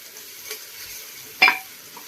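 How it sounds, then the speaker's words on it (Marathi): Ginger garlic paste fries in oil inside a pressure cooker for mutton paya soup. A faint, steady sizzle runs throughout, broken by a single sharp stirring scrape near the middle. "याला 2 मिनिटं असं परतून घ्यायचं, छान लाल खरपूस कलर येऊस्तर।"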